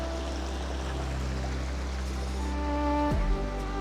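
River water rushing at Shiv Khola in the hills, a steady broadband roar under a constant low droning hum that runs throughout.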